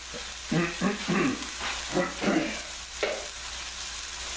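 Black beans tip into a hot pan beside quinoa and fish, bringing a few soft scraping and stirring sounds over a steady, quiet sizzle.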